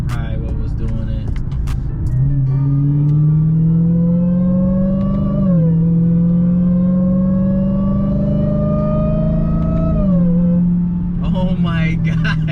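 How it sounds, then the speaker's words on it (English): Supercharger whine from a 2020 car fitted with a Legmaker intake, rising and falling in pitch with the revs over a steady engine drone, loud and continuous throughout with the AC running. "that supercharger be sounding crazy"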